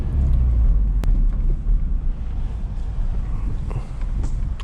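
A manual-transmission car pulling away in first gear, with a low close engine rumble and cabin drone that swells at the start and settles steadily, a faint voice barely present.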